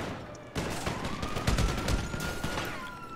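Rapid bursts of gunfire from a GTA 5 shootout crackle loudly and densely for several seconds, with overlapping shots and a faint tone running underneath.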